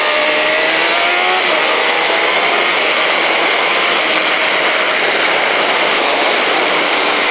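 A 2005 KTM Superduke motorcycle at full throttle on the Pau track, its engine note loud and continuous with rising harmonics throughout, no voices over it.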